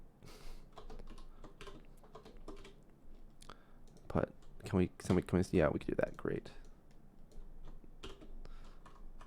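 Computer keyboard typing, close and steady, with bursts of rapid clattering keystrokes, while someone talks quietly over and between the keys.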